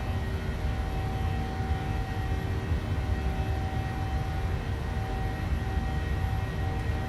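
A PMDG Boeing 737-700 departs Edmonton in Microsoft Flight Simulator, its jet engines producing a steady, loud roar with a constant whine, heard alone without voices.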